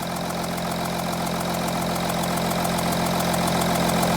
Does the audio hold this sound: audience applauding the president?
no